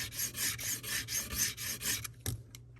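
A flat metal tool scrapes an iPhone 7 frame during a screen replacement, about eight quick rhythmic rasping strokes up close, then a short pause, a single last scrape and quiet.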